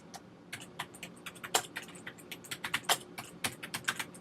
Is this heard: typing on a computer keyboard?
yes